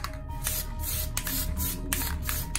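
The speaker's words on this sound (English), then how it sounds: "So I'm about to do my first coat. Let me spray right here." Aerosol spray paint can laying down a light first coat on custom hydro-dipped headlight parts, a steady close hiss broken into several short bursts with brief pauses between passes.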